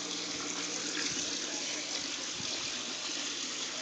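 Water flowing through the siphon of an aquaponics grow bed planted with taro, a steady close rushing gush with a broad hiss that runs unbroken throughout, no voices.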